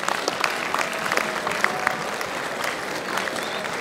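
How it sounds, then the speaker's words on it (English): Sustained applause from a crowd at a lecture in Delhi, dense steady clapping filling the space at an even level throughout. "please give him a huge round of applause"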